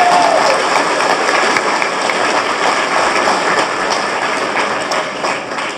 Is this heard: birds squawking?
no